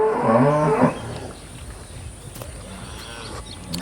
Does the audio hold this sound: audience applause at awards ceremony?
no